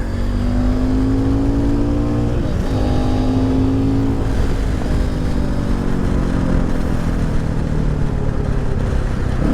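A Cross Country 300 motorcycle engine runs loud and close throughout a ride, a steady droning rumble whose pitch climbs and drops with gear changes and throttle pulls in third gear.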